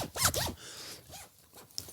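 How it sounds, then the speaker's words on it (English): A clothing zipper is zipped several times in quick strokes, close and crisp, with short rasping sweeps separated by pauses and one sharp click at the end. "you just heard my zip go"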